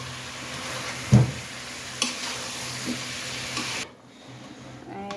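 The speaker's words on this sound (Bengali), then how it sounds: "আজকে পেঁপে দিয়ে হাতের মাংস রান্না হচ্ছে" Duck meat and papaya cooking in a pan, with a steady close sizzle, several soft scraping stirs, and an abrupt drop to near quiet near the end.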